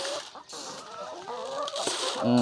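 Several pullets cluck and chatter close by while eating, amid rustling and pecking noises, with one louder squawk near the end.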